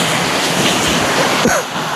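Water running in a stream at a rambutan garden in Malwana, Sri Lanka, pours as a steady broadband rush that stays loud and close throughout, with faint splashy shifts near the end.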